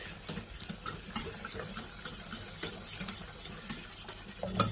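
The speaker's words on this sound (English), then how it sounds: "give it another whisk" A whisk stirs a flour-and-milk sauce thickening in a pan on the heat for lasagne, giving a steady run of soft swishing and light scraping strokes with small taps against the pan, and no talking.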